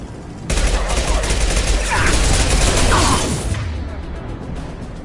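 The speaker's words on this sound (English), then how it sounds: "Blue Suns and Borchers shooting anything that moves" Dense volleys of mercenary gunfire from Mass Effect 2, with Blue Suns fighters shooting on the streets of Omega. The loud, rapid overlapping shots crackle steadily for about three seconds, then fade to a quieter rumble.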